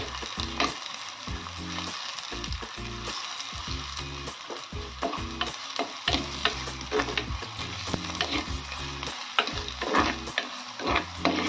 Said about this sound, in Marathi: याला छान लाल होईस्तोवर परतून घेऊया